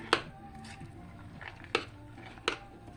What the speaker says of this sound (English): Stir in your pecans.